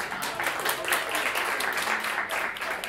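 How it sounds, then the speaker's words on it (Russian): A concert audience at a jazz club performance applauds steadily and fairly close for the whole three seconds, a dense wash of clapping with no voices over it. "Это достойно, я думаю, отдельных аплодисментов."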